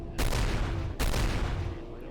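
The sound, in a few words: gunfire in a video game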